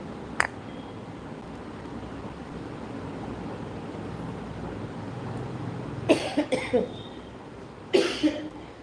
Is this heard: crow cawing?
no